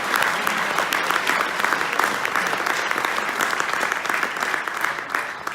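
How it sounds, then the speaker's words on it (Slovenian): Audience applause for kayaker Lan Tomić at a kayaker of the year awards event, dense and steady clapping from a crowd that holds at an even level throughout. "dajmo en aplavz še za Lana Tomića"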